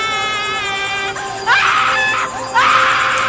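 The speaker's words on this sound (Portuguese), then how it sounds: "até que ouvimos um grito" Anguished screams, wailing and crying fill a horror story narration, loud harmonic cries rising in two sharp outbursts after a sustained moaning tone.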